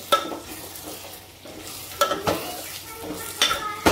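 Potatoes stir-frying in a spiced tempering for a Maharashtrian potato curry, with a steady close sizzle broken by several sharp spatula scrapes and clinks against the pan.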